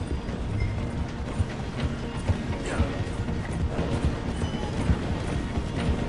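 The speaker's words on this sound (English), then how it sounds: "The train is slowing down to go through the station." Train slowing as it nears a station in the Red Dead Redemption 2 video game, a steady mechanical rumble with rhythmic clanking of railcars, a dense low roar running throughout at a fairly even level.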